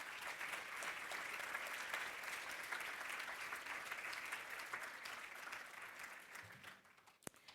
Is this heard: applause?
yes